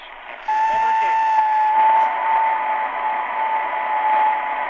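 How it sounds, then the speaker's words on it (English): A Prunus A-166 AM/FM portable radio sweeps across the band, giving a continuous hiss of static with whistling tones and snatches of broadcast drifting in and out, steady and close throughout. "So we're just going to cruise with the band fairly quickly."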